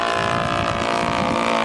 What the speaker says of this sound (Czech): Ten motor, na jehož zvuk jsem před chvilkou upozorňoval, to je anglický Laser 300 V.